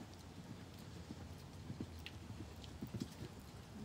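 Horse cantering during a cross-country jumping lesson outdoors, hooves thudding on the ground in a steady rhythm, moderately close, with faint wind noise and no talk.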